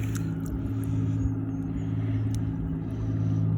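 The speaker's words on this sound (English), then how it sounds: "There's a lot of boat traffic today." Steady low motor drone from boat traffic on murky water, with harmonic engine hum continuous throughout and no talk over it.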